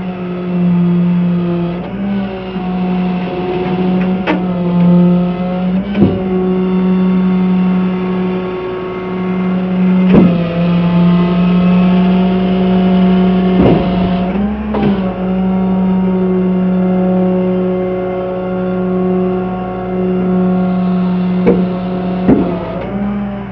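A 1928 Ford Model A engine runs at a steady idle with a low, even hum and throbbing harmonics, close and moderately loud, broken by a few sharp knocks and clunks.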